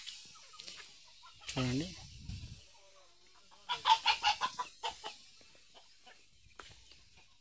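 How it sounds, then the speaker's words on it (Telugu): Village country chickens kept beside a farmer's hut cluck in a close burst of rhythmic calls, with a brief rooster-like squawk earlier and someone speaking briefly. "నాటుకోళ్ళే ఫ్రెండ్స్ ఇక్కడైతే ఉన్నాయి చూడండి"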